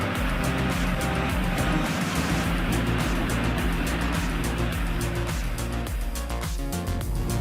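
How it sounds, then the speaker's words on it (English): A Kenworth logging truck laden with wood starting up in mud, its engine roaring loud and steady while the wheels churn and spin with a rough, continuous grinding rush. "This lumber-carrying monster is starting up, its wheels spinning like it's a heavy-duty drifter on gravel."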